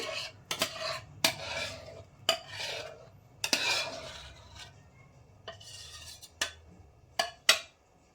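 Cooked mango halwa spooned from a pan into a dish, giving a series of sharp metal-on-metal scrapes and taps from a spoon at irregular intervals, close and clear against a quiet room.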